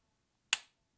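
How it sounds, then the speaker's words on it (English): A single short, sharp click from the dry-fire trigger pull of a Canik METE MC9 micro 9mm pistol, heard close and isolated in an otherwise silent room. "let's go ahead and feel this trigger really quick"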